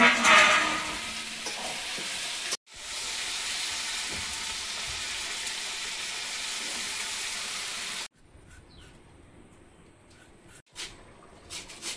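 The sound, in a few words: potatoes being stirred and cooked in a pan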